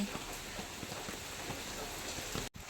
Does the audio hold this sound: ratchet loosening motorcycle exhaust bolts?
no